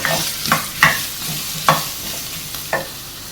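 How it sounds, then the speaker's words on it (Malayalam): Crushed green chillies are stirred and sautéed in a pan for aloo pulao, with about five irregular scraping strokes of a spoon over a light sizzle. No voices. "ഇതൊന്ന് ഇളക്കി ഒന്ന് പച്ചമണം മാറുന്നവരെ ഒന്ന് വഴറ്റിയെടുക്കാം"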